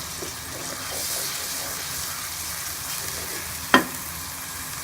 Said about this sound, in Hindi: ये लहसुन अदरक का पेस्ट है, ये इसके अंदर मैं डाल दूंगी। इसको भून लेंगे।